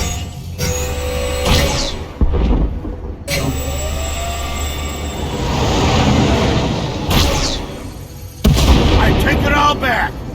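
Starship weapons blasting in Star Wars: The Old Republic, several loud booming bursts and whooshing volleys spaced across the stretch over a steady engine hum. Voices speak in between.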